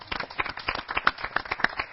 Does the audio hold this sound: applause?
yes